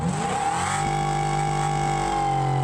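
A supercharged American car engine making about 700 horsepower revs hard, a loud, close, steady mechanical roar with a high supercharger whine running for nearly three seconds, no one talking.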